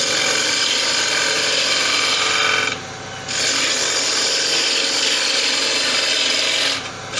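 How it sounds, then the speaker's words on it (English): A gouge cuts the inside of a wooden bowl spinning on a fixed-head wood lathe. A steady, loud, close scraping hiss runs throughout, broken by two brief pauses. "I can turn the gouge over and come back."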